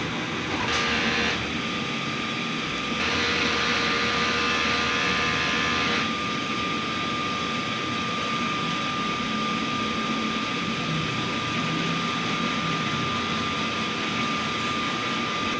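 A DTF printer runs a head cleaning cycle: a steady whir and hum with a thin whine, a louder motor burst in the middle, then continued running.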